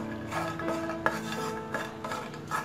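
A utensil scrapes and stirs coconut pieces frying in a pan, with irregular scraping strokes and light clinks over a steady background hum, close and moderately quiet.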